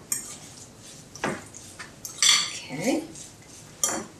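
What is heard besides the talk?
mixing tofu with spices in a bowl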